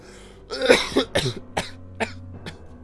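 A series of harsh coughs, five or six bursts in quick succession, close and fairly loud, tapering off at the end.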